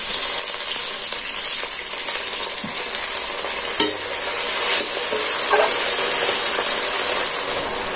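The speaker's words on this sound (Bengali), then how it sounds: "এবার আমি একটু অল্প পরিমাণে জল দিয়ে দেব।" A small amount of water goes into frying pumpkin and shrimp in a pan, setting off a loud, steady hissing sizzle with a few soft utensil knocks.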